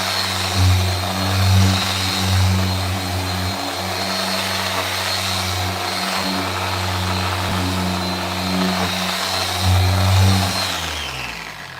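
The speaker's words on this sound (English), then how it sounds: "Now I could do a lot more with the rotary high-speed buffer that I couldn't do previously" Rotary high-speed buffer polishing the paint of a 2024 BMW X5, a loud steady motor whine with slight rises and falls in speed, close and sustained without talk.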